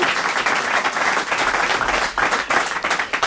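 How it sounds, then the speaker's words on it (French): Studio audience applause on a French television comedy show: a dense, loud burst of many hands clapping, sustained without pause for a few seconds with small swells. "Bravo, ça s'applaudit, bravo."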